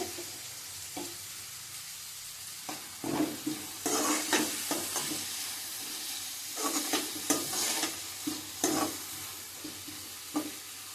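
Onion pieces with a pinch of turmeric fry in a pan for ridge gourd and dried prawn curry, a soft continuous sizzle broken by repeated scraping stirs, no voices.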